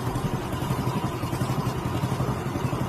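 Petrol engine fitted to a converted Ola electric scooter, running steadily at close range with a fast, even low-pitched putter and no talking.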